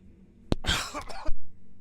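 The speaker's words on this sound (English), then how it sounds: "just coughing in my microphone" A single cough with a sharp onset and a rough, throaty burst, very close to the microphone, then quiet.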